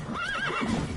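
A horse whinnies once, a short, wavering high neigh that rises and falls, close by and clear.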